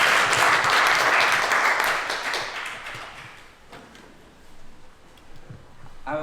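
An audience claps loudly for a speaker being introduced at an evening talk, the dense applause strong at first, then thinning into scattered claps before a last small burst.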